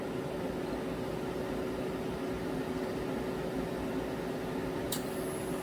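An AC recharge machine dispenses refrigerant into a 2014 Hyundai Santa Fe: a steady, even mechanical hum and hiss holds throughout, with one sharp click near the end.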